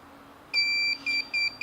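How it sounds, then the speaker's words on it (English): A vacuum sealer machine, used to seal meat for dry aging at home, sounds one long high beep followed by two shorter beeps, clear and close over a faint hum. "push and hold when you hear the beep."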